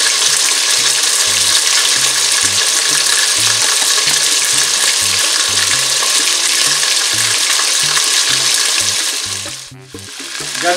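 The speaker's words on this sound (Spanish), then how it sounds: "tenemos el pollo que se está friendo" Loud, steady sizzling of chicken frying in a hot pan, with a brief dip near the end as if stirred.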